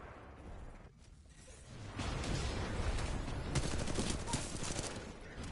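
Gunfire in the video game Titanfall 2: after a quieter lead-in, a dense, sustained burst of rapid automatic fire and clatter runs loud for several seconds.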